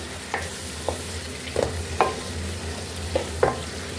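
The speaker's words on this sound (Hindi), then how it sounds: "अब चिकन को भी हम फ्राई कर लेंगे, खूबसूरत सा कलर आने तक इसको हम फ्राई कर लेंगे।" Chicken pieces frying in a pan for haleem, a steady close sizzle broken by a handful of scraping spatula strokes and taps, with no voices.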